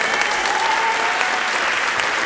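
An audience at an awards ceremony applauds, a broad, even wash of clapping from a large crowd that holds steady throughout, with no voices over it.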